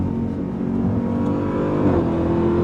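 A 2026 Dodge Durango Hellcat's supercharged engine pulls hard under acceleration, a loud, close, rising roar with layered harmonic whine held steady and building across the short stretch, no talk over it.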